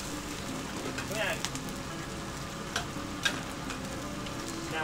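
Ingredients hit a hot wok in a small Anhui country-style restaurant kitchen, giving a steady, fairly quiet sizzle and frying crackle with a few sharp clinks of stirring, a voice faintly present.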